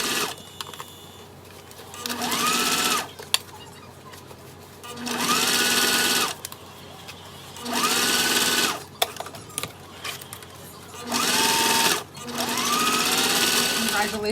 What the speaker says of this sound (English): we're going to top stitch that right here all the way across on that side at 1/8 of an inch